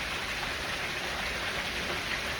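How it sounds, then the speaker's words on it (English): Heavy, steady rain falls during a spring thunderstorm, a dense, even hiss of drops that continues unbroken and stays moderately loud throughout, with no voices. "Rain is pretty much coming down straight, but it is a pretty steady rain."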